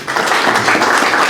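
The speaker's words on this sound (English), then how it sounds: "Another round of applause." Applause from the audience at a city council special meeting held to elect a mayor and deputy mayor, with steady, dense clapping that fills the room at even loudness throughout.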